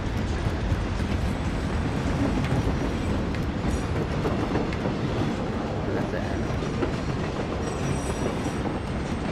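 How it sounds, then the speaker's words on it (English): A train in the Warzone video game rumbles along with steady rolling wheel noise and faint squeals, loud and continuous throughout, with no talk over it. "Train. I want the train."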